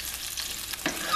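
Shrimp frying on a home stove beside a boiling pot of lobster stock, a steady close hiss of sizzling with a brief stirring scrape near the end, no voices.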